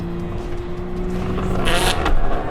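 A racing car in Gran Turismo 7, played in VR on PS5, hums with a steady engine drone and then crashes in a short, harsh scraping burst, with the engine still running underneath.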